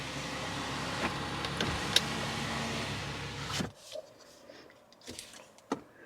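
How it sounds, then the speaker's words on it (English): Power window motor in a new Toyota Land Cruiser, a steady whirring hum for about three and a half seconds that stops abruptly, leaving quiet cabin sounds and a few faint clicks. "We'll just try a window real quick."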